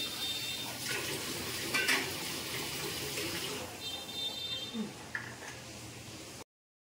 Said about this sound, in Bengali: ততক্ষণ জলটা ভরে নিই, জলটা খালি হয়ে গেছে